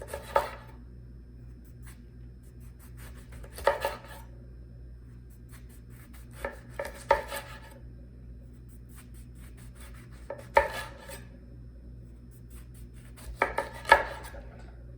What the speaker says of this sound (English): So I'm just gonna make some slices.